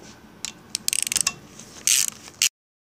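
A 5/16-18 tap turned with a tap socket on a ratchet while servicing a Johnson/Evinrude V4/V6 lower unit gearcase, heard as quick close bursts of ratchet clicks and mechanical rattles that end abruptly.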